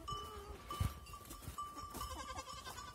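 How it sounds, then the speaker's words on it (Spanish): Goats on a farm bleat in faint, scattered calls against a quiet outdoor background, with a soft low bump partway through. "Las cabras ya están ahí a lo suyo."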